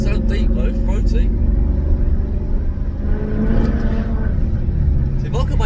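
A Maserati GranTurismo S engine rumbles with a deep, throaty exhaust note, revving steadily under a voice as he talks over it.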